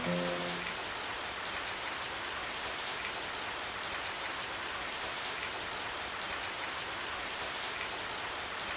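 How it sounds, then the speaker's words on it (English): Steady rain falling in the Nintendo 3DS video game Radiant Historia, a dense, even hiss that continues unbroken throughout, with a brief tonal chime at the very start. "It started to rain."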